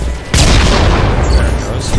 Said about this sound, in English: The red ones are actually quite dangerous. I think that one explodes.